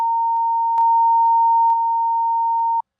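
A steady 920 Hz sine test tone, picked up through two microphones, holds at constant loudness for nearly three seconds with a few faint clicks before cutting off abruptly.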